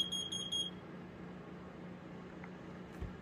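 A Nest Protect second-generation smoke and carbon monoxide alarm runs its self-test indoors, giving a short series of high electronic beeps at the start before quiet room tone, with a faint later blip and a soft knock.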